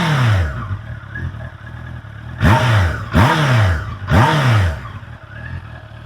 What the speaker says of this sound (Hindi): काफ़ी बेहतरीन इनलाइन 4 का साउंड है